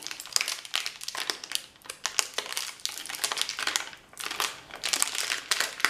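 Plastic nylon wrapping of a pregnancy test crinkling and crackling as it is handled and pulled open, close and fairly quiet, with irregular bursts of rustling and brief lulls.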